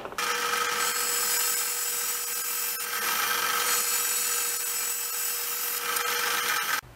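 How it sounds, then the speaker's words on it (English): A bandsaw cuts through wooden pen blanks, a steady, loud whirring rasp that runs almost without break for about seven seconds before stopping abruptly, with no talking. "I'm gonna cut these off on the bandsaw here and here."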